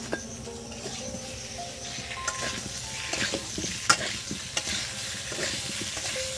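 Ground spice paste frying in a pan for a vegetarian aloo dum, a close steady sizzle broken by scraping stirs and the odd clink of a utensil.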